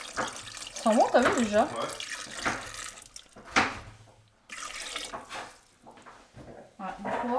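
Water pours from a tap into a container while making a dish, splashing and gurgling in bursts as people talk in French over it.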